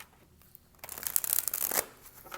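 A deck of tarot cards shuffled close by, a quick burst of riffling and flapping that rises, lasts about a second, then settles.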